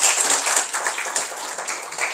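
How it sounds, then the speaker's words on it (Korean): An audience applauding at the close of a colloquium lecture, a fairly quiet, even patter of many hands clapping throughout, with no voices over it. "박수 한번 감사합니다"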